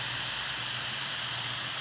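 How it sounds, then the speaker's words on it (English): An Instant Pot pressure cooker releasing steam gives a loud, steady, unbroken hiss that stays constant throughout, close up with no talking. "when the steam is completely released and it's safe to open"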